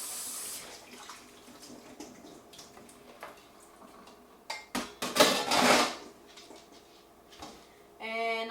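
Dirty potatoes being rinsed in water in a pot: irregular bursts of running and splashing water with occasional clinks against the pot, fairly quiet between louder swishes.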